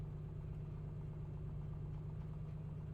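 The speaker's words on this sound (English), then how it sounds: "Give it a little more throttle. I don't like the way it's idling." A2A Comanche light aircraft engine idling on the ground in a flight simulator: a steady, low, droning hum with an even pulsing throb, constant in level and with no voices.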